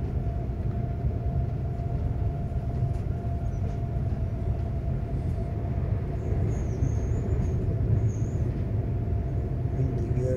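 A train rolls through a very tight curve on the outskirts of Gallarate at about 100 km/h, a dense, steady rumble of wheels and carriage with faint high wheel squeal partway through.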